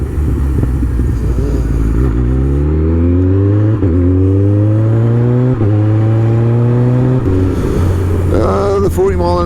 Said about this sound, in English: Quarter throttle, just pulls your arms off.